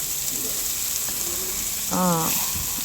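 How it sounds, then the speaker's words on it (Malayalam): Curry leaves, crushed kanthari chilli, ginger and garlic fry in hot oil for toddy-shop style karimeen pollichathu, a steady close sizzling hiss throughout, with a short burst of a voice speaking near the end. "കുറച്ച് കരിവേപ്പില പിന്നെ ചതച്ച കാന്താരിമുളക് ഇഞ്ചി വെളുത്തുള്ളിയിട്ട് ജസ്റ്റ് ഒന്ന് ഫ്രൈ ചെയ്ത ശേഷം"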